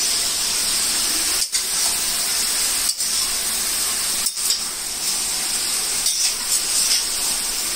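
Chicken fries in hot oil over a high flame, giving a steady close hiss and sizzle that carries on unbroken, with a few brief dips in the noise.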